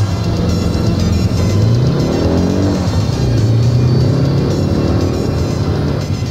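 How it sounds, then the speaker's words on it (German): A car from the 1980s Knight Rider series drives off, its engine a loud, steady hum with rising and falling pitch as it accelerates away. "Michael steigt wieder zu Karen ins Auto und fährt los"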